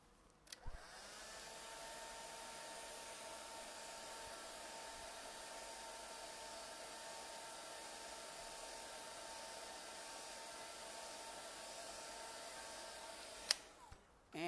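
A hair dryer drying magenta paint on a triple switch plate blows in a steady, quiet whoosh for about thirteen seconds, with clicks as it switches on and off.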